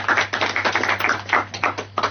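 Audience applause for a contestant on a junior quiz show: a short burst of brisk, dense clapping over a faint low hum, with no talking.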